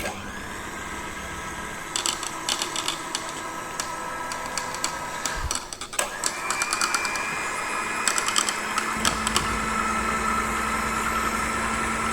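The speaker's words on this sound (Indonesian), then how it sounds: "Untuk itu, aku akan menggunakan mixer." An electric mixer churns a blend of oil and NaOH for homemade bar soap, a steady motor whir with clicking and rattling bursts throughout, close and continuous.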